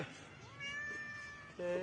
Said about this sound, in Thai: แมวของน้องหมอแก้วครับ